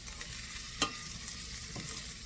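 Chopped onions sizzling in a pan for broccoli risotto, a steady quiet frying hiss with a spoon clinking and scraping once or twice as they are stirred.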